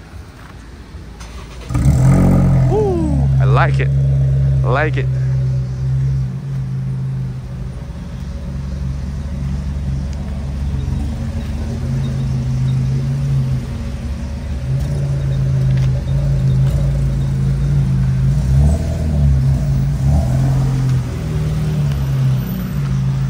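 A Perodua Myvi G3 engine cranks and catches with a sharp rising rev, then settles into a loud, close, steady idle with a couple of small rev swells; a person speaks briefly at the start.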